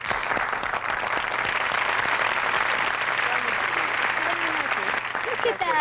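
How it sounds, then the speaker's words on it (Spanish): Studio audience applause on a 1981 Mexican television talk show, loud sustained clapping that holds steady throughout, with a voice speaking faintly underneath near the end. "gracias a ustedes por sus aplausos"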